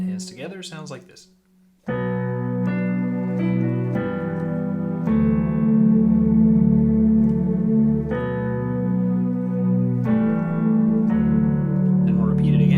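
Piano intro of a worship song played with both hands together, sustained chords and a low bass line ringing steadily after a short spoken lead-in, with moderate sustain throughout.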